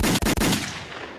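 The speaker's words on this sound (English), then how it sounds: "Where are the gunshots?" A loud, close burst of gunfire, three sharp shots fired in rapid succession, followed by a fading rumble of echo with no voices.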